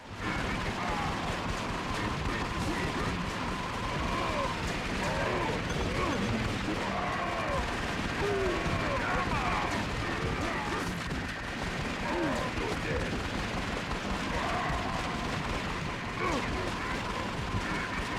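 Rapid assault rifle gunfire in the video game Twin Caliber, dense and continuous over a steady bed of game noise and music, with talk running through it.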